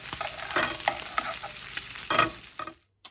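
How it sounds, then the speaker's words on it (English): Bacon and onions fry in a pan with a bright, steady sizzle, broken by stirring scrapes and clatter, close and loud before cutting off abruptly near the end. "I just love that combination of bacon and onions frying up together"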